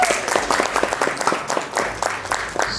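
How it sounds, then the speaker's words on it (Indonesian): Applause for a team at a school quiz competition semifinal, a steady dense patter of many hands clapping together, fairly close and continuous with faint voices underneath. "Tepuk tangan untuk tim A."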